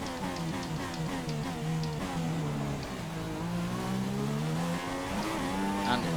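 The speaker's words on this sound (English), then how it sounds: "I heard a growling Honda engine, so I thought it was a McLaren" A McLaren Formula 1 car's growling Honda engine in the F1 2016 video game at the Austrian Grand Prix, revving up and down through gear changes under faint ambient noise, with tire squeal hints.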